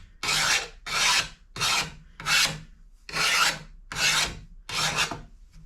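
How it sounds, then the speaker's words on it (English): A hand file rasps across a chainsaw part to remove a burr, making seven even back-and-forth strokes at a steady rhythm, loud and close, with no speech. "I might as well deburr this while I have it."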